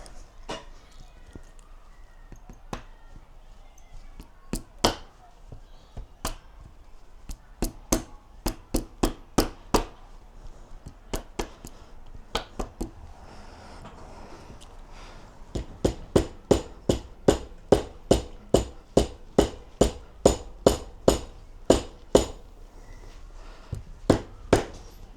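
Rubber end of a hammer tapping a steering damper part on a DRZ400 motorcycle, a long series of sharp knocks, sparse at first, then quicker, steady, evenly spaced blows, close and fairly loud, with no talk.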